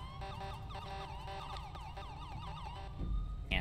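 Police sirens in a patrol video game, wailing and yelping in rapid repeated sweeps with bursts of car horn honking throughout, loud and close, ending in a brief thump.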